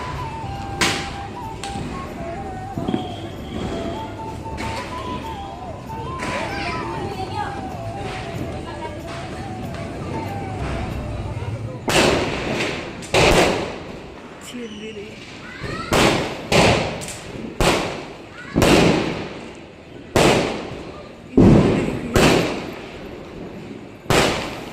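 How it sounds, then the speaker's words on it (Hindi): Diwali firecrackers explode in a loud run of sharp bangs, clustered and irregular, after a stretch of busy festive background noise with distant pops. "पटाखे की दोस्तों इतनी ज्यादा आवाज है, इतनी ज्यादा, अभी आप लोग को सुनाएंगे"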